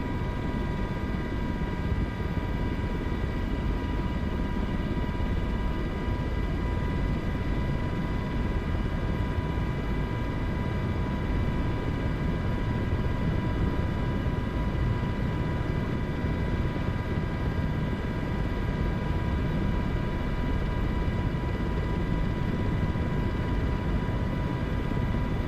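A steady, continuous MH-60 helicopter drone in a video game, rotor thump and turbine whine holding level throughout, with no voices.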